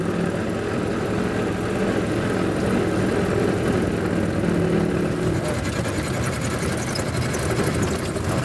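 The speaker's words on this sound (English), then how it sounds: "Oh, I'm driving a Model T." A 100-year-old Ford Model T engine running steadily while driving in first gear, a continuous loud mechanical drone with no talk over it.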